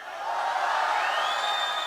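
Crowd at a Tamil temple festival stage for the Bannari Mariamman Kundam festival, sustained distant shouting and cheering, a steady wash of voices held for about two seconds.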